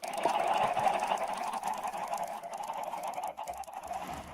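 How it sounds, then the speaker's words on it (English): Chickens clucking in the Minecraft video game, a dense, continuous chorus of overlapping squawks from several birds, loud and close, with no talking. "I'm just so tired of hearing them clucking all the time"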